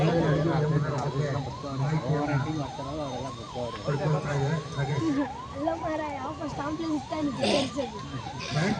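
A police jeep's wailing siren cycles up and down repeatedly, loud and close, with street noise and some voices underneath, at a bomb blast demonstration drill in Chitradurga, Karnataka, India.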